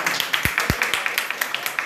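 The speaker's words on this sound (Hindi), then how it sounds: "ताली बजाइए" A group claps together to welcome a sintering plant worker during a workplace safety drama. The claps are quick, steady and fairly close, with a couple of heavier thuds partway through.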